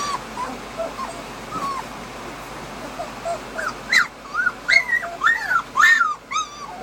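Eighteen-day-old Malamute puppies whine and whimper in a litter, soft high cries at first that grow into a close run of rising, yipping whimpers toward the end.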